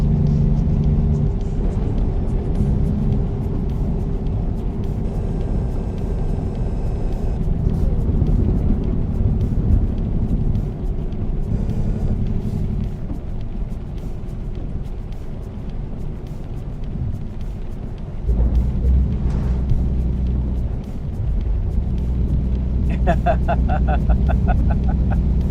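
Low, continuous engine rumble of a truck in American Truck Simulator, a steady drone throughout with slight shifts in level and no talk over it.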